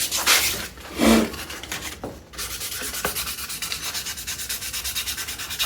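A carving knife blade is hand-sanded with fine-grit paper, a close rasping rub in a few strokes and then a steady rhythmic back-and-forth scrubbing.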